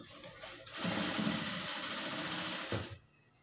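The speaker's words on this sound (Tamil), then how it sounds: "நெக் பீஸை மடிச்சுட்டு ஃப்ரண்ட் நெக் எஜ்ஜில் வச்சுட்டு சிங்கிள் கைடு அளவுக்கு வந்து நீங்கள் தையல் போட்டுக்குங்க" A sewing machine stitches a folded neck piece along the front neck edge of a garment, whirring steadily for about two seconds after a brief start before stopping.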